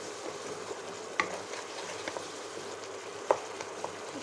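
A paneer kofta kalia masala with sugar cooks in a pan, giving a soft, low sizzle with occasional scraping clicks of stirring.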